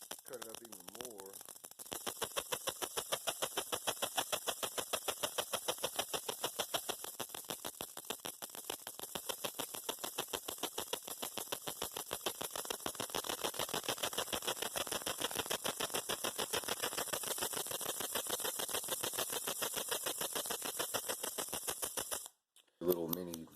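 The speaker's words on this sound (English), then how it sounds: "Little mini Jacob's ladder action." A ZVS driver powers a flyback transformer whose high-voltage arc climbs like a small Jacob's ladder, giving off a loud, continuous buzzing crackle that holds steady for about twenty seconds before cutting out abruptly.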